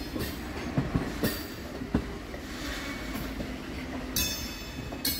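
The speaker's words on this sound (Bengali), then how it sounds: "আমাদের ট্রেনটা বাঁদিকে বাঁক নিয়ে যাবে ব্যান্ডেল জংশন স্টেশনের দিকে।" A local train on the Naihati–Bandel link line rolls along with steady rumbling, rhythmic wheel clacks over rail joints and bursts of high metallic squeal as it curves left toward Bandel Junction, heard from inside with no talk.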